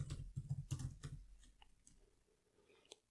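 Quick bursts of clicky keystrokes on a computer keyboard, close and crisp at first, thinning to a few scattered taps and one last sharp click.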